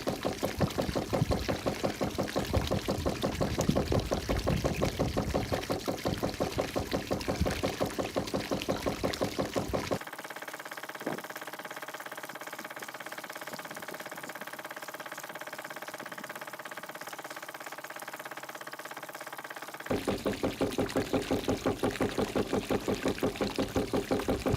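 Steady wash of water running over a gently sloped gold concentrating table separating light material from heavier ore, with a machine hum; the flow is loud at first, drops to a quieter smooth run midway, then returns louder.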